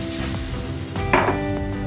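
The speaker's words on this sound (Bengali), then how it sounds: "এখন এর ভিতরে আমি ঝোল দিয়ে দিলাম।" Broth pours into a sizzling curry of puti fish and flat beans, a hot hiss and gush rising briefly over a steady frying crackle, close by with no talk.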